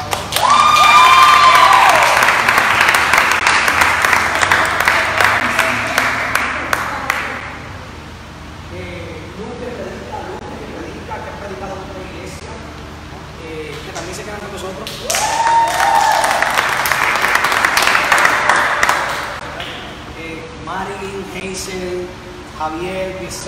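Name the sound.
congregation applause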